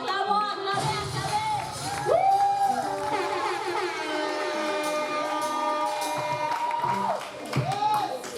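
A church congregation gives clapping and cheering acclaim for Guylaine, a busy crowd roar with applause running throughout, while a voice speaks over it with a melodic, sung quality.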